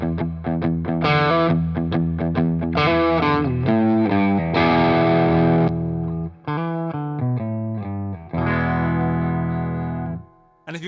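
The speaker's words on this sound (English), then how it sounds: "kicking in the mid boost gets you distortion" Electric guitar through a Rattler distortion pedal with the mid boost engaged, playing a gritty, loud riff of chords and single notes with brief gaps and a final sustained chord.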